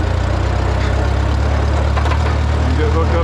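A Farmall A tractor engine idles with a steady low, even chugging throughout, close and fairly loud.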